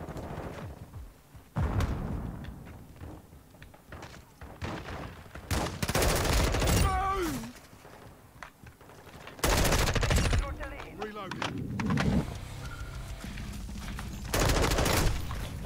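Shotgun blasts in Modern Warfare II arrive as loud, close booms spaced over several seconds amid other gunfire and game noise, with a voice talking at times.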